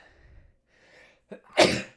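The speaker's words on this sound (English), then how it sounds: "I think I might sneeze" A faint breath, then a single sharp, loud sneeze bursting out close by.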